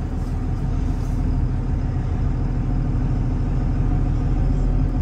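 A stock truck engine rumbles steadily up close as the clutch is let out to pull away, a loud, even drone with no clear rise in pitch.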